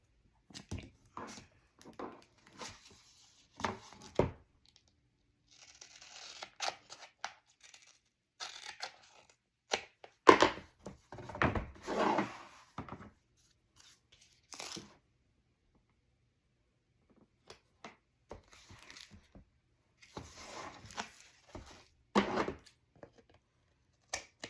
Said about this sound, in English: I turn it over and just cut with my scissors